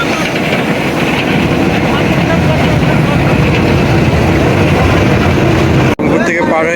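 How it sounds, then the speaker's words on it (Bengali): A passenger train pulls out of a small station on the Rangpur to Kurigram line, a loud, steady, close engine and wheel rumble that holds throughout before an abrupt shift near the end. "এখন ট্রেন ছেড়ে দিবে।"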